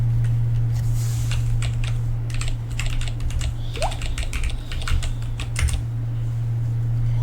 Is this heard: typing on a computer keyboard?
yes